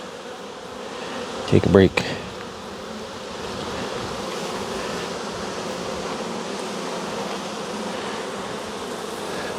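Honeybees hum steadily around an opened hive colony during a late-season check, a continuous insect drone that holds throughout, with a brief louder clatter near the start and a short spoken remark.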